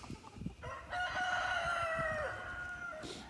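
Chickens give a drawn-out, strained alarm call, as if reacting to a hawk near the flock. The call rises after a brief clucking start, holds for over a second, then fades, fairly quiet and close.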